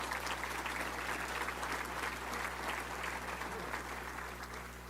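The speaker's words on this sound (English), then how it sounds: "Let's give a round of applause for all of our great sponsors" Luncheon crowd at a touchdown club meeting applauds sponsors with a sustained, moderately distant wash of clapping over a low hum in the room.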